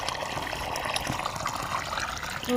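A thin stream of water trickles from a motor-pumped irrigation pipe on a farm, a soft continuous dribble and splash, faint and steady with no voices.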